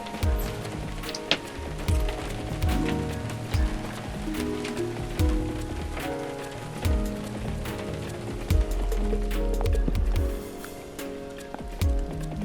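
Rain falling outdoors along a hiking trail in Michigan's Upper Peninsula, an irregular patter of drops with scattered louder taps over a steady wash, moderately close.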